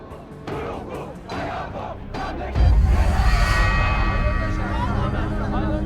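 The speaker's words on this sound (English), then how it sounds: "Wherever Mousavi went, he was met with large and enthusiastic crowds." A large, enthusiastic crowd of supporters in Iran, a mass of voices shouting and chanting together that swells suddenly into a loud, sustained roar.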